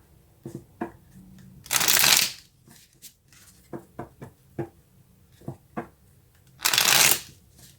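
Tarot cards are shuffled close by: two loud riffling bursts framing a series of sharp taps and knocks as the deck is squared and handled, with no talk.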